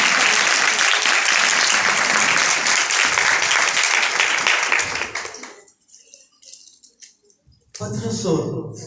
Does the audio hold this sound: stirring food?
no